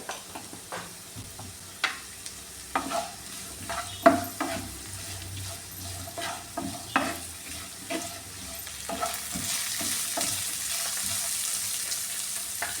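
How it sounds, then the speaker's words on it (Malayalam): Onions sautéing with salt in a pan: repeated spatula scrapes and stirring strokes over a gentle sizzle, close and fairly quiet, with the frying hiss swelling more steadily toward the end. "ഇതെല്ലാം കൂടെ ഒന്ന് വഴറ്റിയെടുക്കാമേ."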